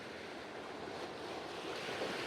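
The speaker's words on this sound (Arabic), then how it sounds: "دابا حنايا في التالي، ها البحر." Sea waves wash onto the shore at a small harbour, a faint, steady surf hiss that swells slightly toward the end and is mixed with light wind. No voices are heard.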